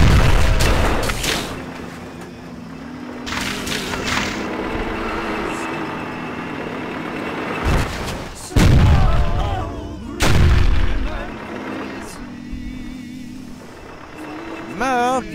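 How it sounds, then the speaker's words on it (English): Tank rumbling and booming shots in the old zombie action game Stubbs the Zombie, heavy low-end engine drone broken by several loud blasts and bursts, with a player's voice talking over the din. "Move, you stupid tank!"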